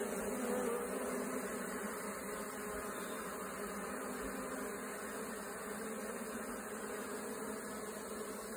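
Honey bees buzzing around a hive frame during a beekeeper's inspection of a swarm split in two, a steady dense hum from many bees close by, continuous and even throughout.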